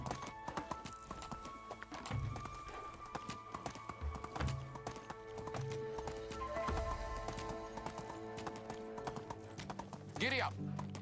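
Horse hooves clip-clopping at a steady ridden gait in the medieval village survival game Medieval Dynasty, close and continuous, with a brief whinny near the end and someone talking over it.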